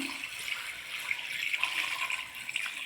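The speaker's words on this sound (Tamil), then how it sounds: "இப்போ தண்ணி சேர்த்துடலாம்" Water poured into a pan of country chicken curry (nattu kozhi kuzhambu) as it cooks, a steady splashing pour running continuously and fairly loud throughout, with no talking.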